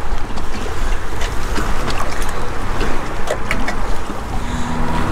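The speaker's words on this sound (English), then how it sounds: "And of course, we have a police boat." A police boat motor drones steadily over rushing water and wind, loud and continuous throughout with no talking.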